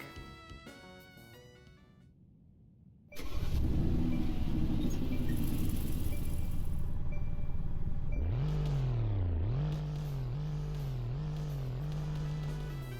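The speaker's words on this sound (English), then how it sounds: "here is what the car sounds like" A car engine starts with a loud roar, idles with a deep rumble, then revs up and down several times in rising and falling swells.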